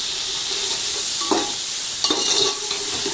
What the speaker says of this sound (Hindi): मैं 2-3 मिनट फ्राई कर लूंगी